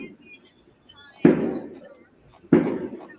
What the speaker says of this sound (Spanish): estás en Cataluña con los petardos